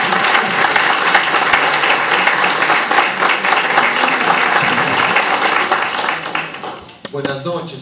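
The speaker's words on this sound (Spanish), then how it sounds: "Vamos a recibirlo con un voto de aplauso." A community audience gives a loud, sustained round of applause to welcome Father Pablo Meloni at an evening talk. The dense clapping fills the room, then thins out at the end as a voice briefly begins.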